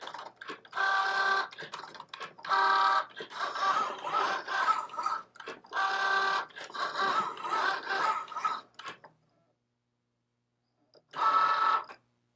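A Cricut Joy cutting machine slicing thick cardstock for wood-and-paper Christmas earrings, a close mechanical whirring and buzzing in repeated bursts with short pauses, a silent gap, then one final burst.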